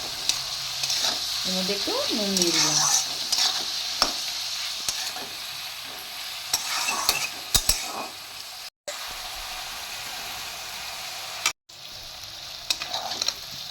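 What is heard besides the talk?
onions frying and being stirred in a pan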